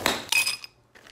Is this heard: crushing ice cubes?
yes